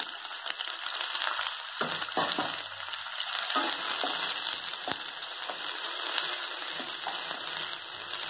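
Mushrooms sizzle and crackle steadily in hot oil, with occasional stirring scrapes and clatters in a quiet kitchen.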